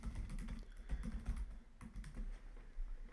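Quiet, rapid typing on a computer keyboard, a soft irregular run of key clicks heard alone without talk.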